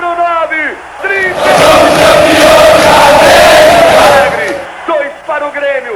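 Football crowd roaring and chanting in the stands as Grêmio wins the Copa Libertadores against Peñarol, a loud sustained mass of voices swelling for several seconds between shorter bursts of shouting.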